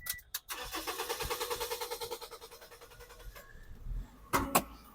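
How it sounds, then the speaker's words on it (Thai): A 2004 Toyota Vios engine cranks in a rapid pulsing rhythm for a few seconds, then stops, followed by a couple of sharp clicks and knocks. "แล้วฟังเสียงเครื่องยนต์กันนะครับ"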